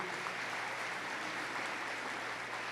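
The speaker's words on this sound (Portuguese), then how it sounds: "Você pode acolher a palavra aplaudindo" Brief, steady applause from a church congregation, a uniform wash of many hands clapping with a low hum underneath.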